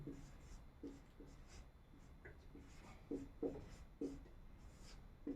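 Chalk or marker scratching out a word on a board, soft intermittent strokes in short bursts with small pauses between, close and fairly faint against a quiet room.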